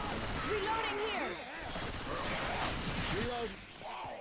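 Rapid gunfire in a shooter video game, bursts of shots overlapping with players talking over voice chat throughout.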